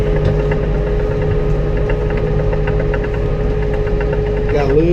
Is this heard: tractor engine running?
yes